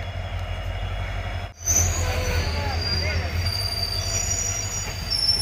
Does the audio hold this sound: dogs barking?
no